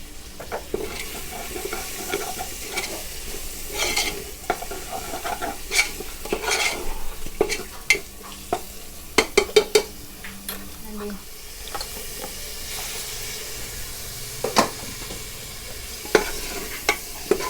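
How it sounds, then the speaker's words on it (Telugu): Ginger garlic paste sizzles in a pan with coriander and mint while a spoon stirs and scrapes, clacking against the metal in a cluster of sharp hits midway, close up over a constant hiss. "ఇప్పుడు అన్నీ కలుపుకొని బాగా ఫ్రై చేసుకుందాము"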